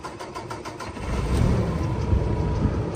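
A 2015 Kenworth T880 truck engine starting: several quick cranking pulses, then the engine catches and settles into a loud, steady, low rumbling idle, close by.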